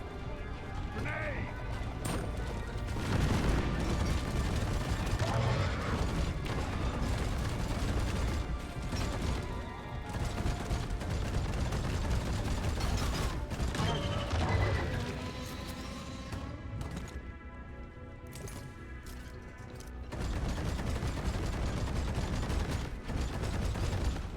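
Coil gun firing bursts in the game Deep Rock Galactic, heavy crashing mechanical volleys with ratcheting clanks that rise and fall across the stretch, briefly easing near the end before resuming, with someone talking over them.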